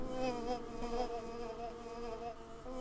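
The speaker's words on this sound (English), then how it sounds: "You can see the bees come out of the hole, and then they go back in." Bees buzzing around a hole in the Samorost point-and-click game, a steady insect drone with wavering tones that swells and fades slightly, fairly quiet and alone with no talk.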